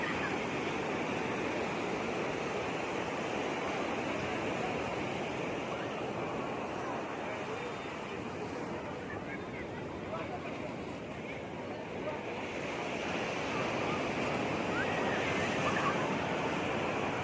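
Sea waves wash steadily onto the beach at Puri in a constant broad roar of surf, with crowd murmur and a voice talking faintly underneath throughout.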